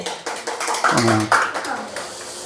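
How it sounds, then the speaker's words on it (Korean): Congregation at a Christmas thanksgiving church service gives a short round of clapping, scattered taps rising and fading under a pastor's voice and some sung or held tones. "박수 한번 쳐줘야 돼, 박수"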